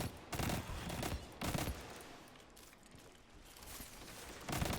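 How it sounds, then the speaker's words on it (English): Tracer shots firing in the video game Destiny 2, repeated bursts of rapid gunfire, loud and close, several volleys separated by brief gaps over a continuous noisy game backdrop. "Stupid tracer shots."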